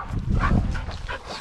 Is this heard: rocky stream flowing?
no